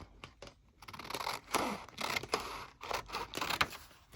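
Scissors snip through scraps of paper for a junk journal in a string of short, quiet, close cuts with soft crinkles between them and no voices.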